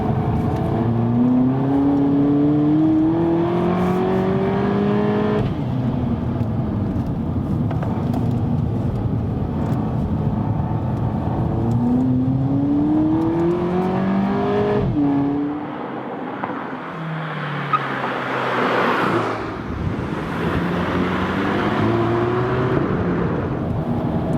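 A VW Polo GTI engine revs and drops repeatedly through cornering on a racetrack, rising in pitch on acceleration and easing off, with steady road and wind roar throughout.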